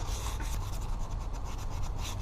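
Aluminum foil with soap paste scrubbing rust off chrome, a continuous close gritty rubbing with fast back-and-forth strokes and no voices.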